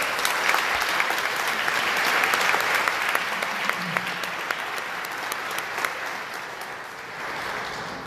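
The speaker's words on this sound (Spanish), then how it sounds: "Un aplauso para Lisette" A church congregation applauding during Sunday Mass in the Easter season, a warm, sustained burst of many hands clapping that fills the room and tapers slightly toward the end.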